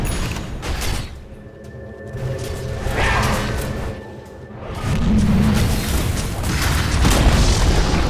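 A tower being destroyed in Dota 2: heavy booming crashes and crumbling rumble with creaks and whooshes, several loud surges over a steady low game ambience, no talking.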